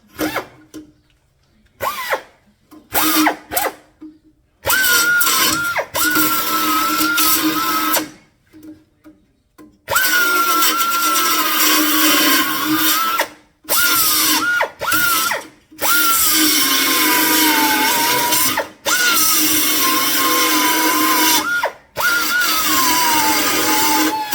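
A power drill whines in repeated long bursts, starting and stopping with short pauses between, loud and close, its pitch wavering as it bites into the metal of a Datsun Z frame rail and floor panel.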